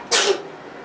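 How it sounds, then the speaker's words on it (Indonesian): A single short, sharp cough bursts out once and fades quickly, close and fairly loud against a quiet background, with no talk around it. "batuk"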